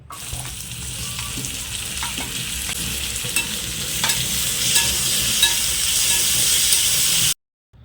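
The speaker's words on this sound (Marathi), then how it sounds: "कांदा भाजल्यानंतर बारीक चिरलेला टोमॅटो घालून घ्या।" Chopped onion and finely diced tomato sizzle and crackle steadily in a pan with cabbage while a Maharashtrian kobi bhaji cooks, with faint scraping of stirring throughout and the sound cutting off abruptly near the end.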